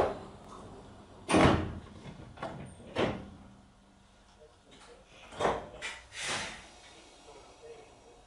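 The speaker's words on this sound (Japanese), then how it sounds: "ドアが閉まります。" Seibu Chichibu Line train doors on the mountain route close with several loud sliding whooshes and thuds spread across the stretch, over a low cabin rumble.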